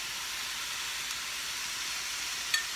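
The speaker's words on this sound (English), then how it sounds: "I'm going to put in my onions" Chopped white and green onions fry in a pan for spaghetti sauce, giving a steady, close, even sizzling hiss with one brief tick near the end.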